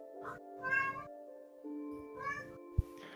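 A cat meows several times up close, drawn-out tonal cries with short gaps between them, over a faint steady hum and a brief sharp knock near the end.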